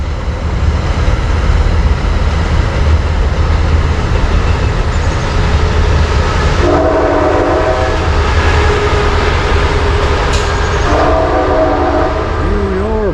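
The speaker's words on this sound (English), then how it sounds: "Looks like the metro." A metro train rumbles past steadily at close range, its two-tone horn sounding twice near the end over continuous wheel and rail noise.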